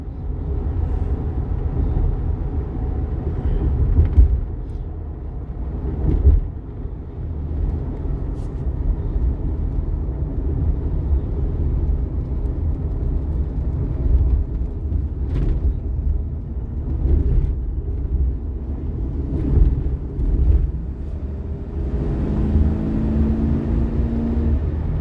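A 2010 Ford E350 van driving along, its engine and road noise forming a steady, loud low rumble with occasional swells and bumps throughout.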